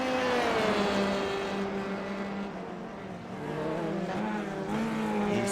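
Race cars in the Mumbai Falcons ISRL Season 3 race run nose to tail in a slipstream, engines droning loud and close with rising and falling pitch as they pass.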